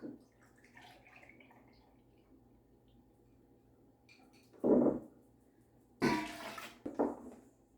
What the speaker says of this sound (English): Now I'm going to put in 6 cups of milk